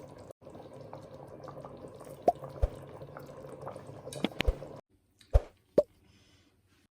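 Thick turnip and beef curry is scooped with a ladle into a serving dish, giving a few wet plops and clinks of metal against the pot over a quiet kitchen background.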